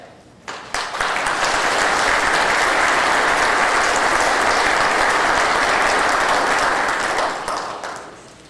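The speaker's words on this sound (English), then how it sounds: "Thank you for that round of applause." An audience at a historical society program applauds, a dense, loud sustained clapping that begins abruptly, holds steady for several seconds, then tapers off, with no speech.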